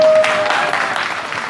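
Loud, close applause from a community gathering in El Maguey, Cuitláhuac, Veracruz, a dense burst of clapping honoring a woman, fading slightly over the short stretch.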